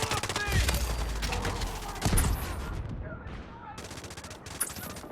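Gunfire in the Delta Force Mobile video game: dense, close bursts of automatic weapons fire that rattle continuously, with a heavy blast near the start and scattered shots continuing to the end.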